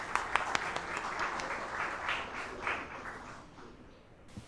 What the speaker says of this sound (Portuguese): Uma salva de palmas, muito obrigada